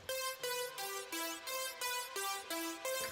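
Two layered synth oscillators, one wavetable and one square, from a drum and bass patch play a rhythmic sequence of bright, buzzy stabs in a steady pulse of about eight notes, loud and alone.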